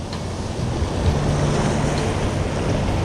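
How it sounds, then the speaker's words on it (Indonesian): Large ocean waves at Ranca Buaya beach after rain, a loud continuous roar of surf with heavy wind buffeting the microphone and no voices. "Biasanya jam segini ombaknya nggak segede gini."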